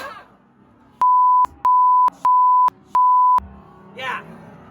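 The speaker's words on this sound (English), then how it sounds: "The alarm just went off." Four loud, steady electronic alarm beeps in an even rhythm sound on a newscast set, each lasting about half a second with short gaps, between bits of speech.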